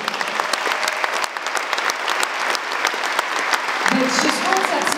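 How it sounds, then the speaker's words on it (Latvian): Concert audience applauding the dancers at a folk dance ensemble's anniversary show, a thick, continuous wash of many hands clapping that holds steady and swells slightly toward the end. "Mīļie dejotājiem aplausi!"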